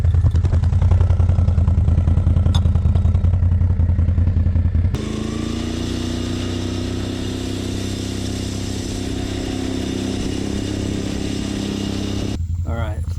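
A Kioti NS6010 tractor's diesel engine runs close by, first at a fast, rattling clatter, then settling to a lower, steady hum until it cuts off abruptly near the end.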